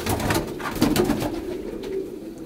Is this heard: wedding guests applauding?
no